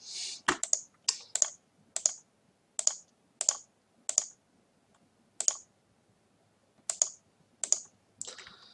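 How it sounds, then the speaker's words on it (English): Typing on a computer keyboard, about a dozen crisp, close key clicks in a loose, uneven rhythm with short gaps, alone without voices. "I'll just type in the option, ignore the actual hands."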